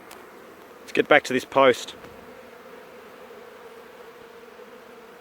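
A honeybee swarm fills the air with a steady, droning buzz that runs the whole way through, while a person speaks briefly near the start over it.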